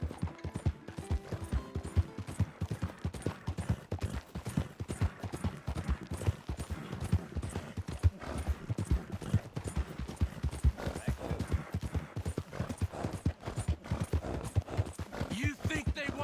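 Horse hooves clip-clop at a steady walking pace in a video game, a run of regular close hoofbeats beneath ongoing dialogue between characters.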